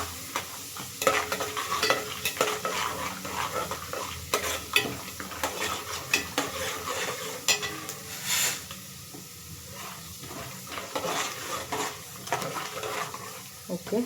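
Chana dal sizzling and frying in a pan, stirred with a utensil in steady scraping strokes, close and fairly loud, with no talking over it.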